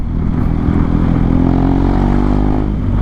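A motorcycle fitted with a full exhaust system, roaring loud and close as the throttle is held open, its deep rumbling drone steady throughout.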